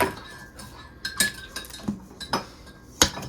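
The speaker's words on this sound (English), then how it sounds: "They can hear you stirring your coffee." Light metallic clinks of a spoon stirring coffee in a mug, irregular taps close by, with a soft ring on the louder strikes.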